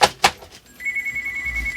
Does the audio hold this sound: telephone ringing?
yes